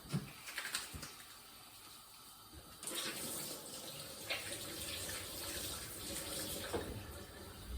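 Tap water runs into a kitchen sink during hand washing, a steady close splashing stream with brief shifts in intensity as hands move beneath it, heard alone without talk.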